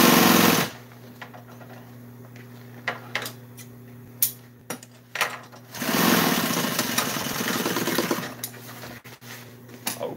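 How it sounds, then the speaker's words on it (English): An electric sewing machine stitching tractor seat upholstery runs in several close, loud bursts, steady motor whir with short stops and restarts between seams. "We got it sewed up."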